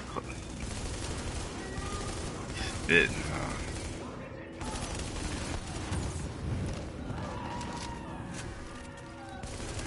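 Light machine gun fire in The Division, rapid chattering bursts at moderate loudness with a sharp louder crack partway through, mixed with game sounds and people talking.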